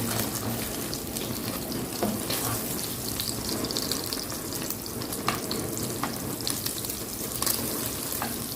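Steady crackling sizzle of eggs frying in a hot pan, continuous and fairly close, with occasional sharper pops and no voices.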